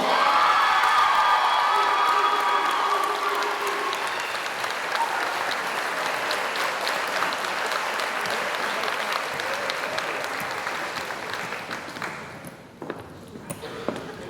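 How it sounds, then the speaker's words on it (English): Sustained crowd applause with scattered cheers and whoops fills a school pageant hall after a Mr. DH winner is crowned, steady and loud before thinning near the end. "Can we get another round of applause?"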